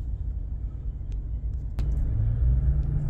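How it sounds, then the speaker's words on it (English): A RAM TRX pickup's supercharged engine rumbles low and steady at close range, rising in intensity partway through, with a faint whine above the drone and no talking. "you hear the supercharger, which is pretty cool"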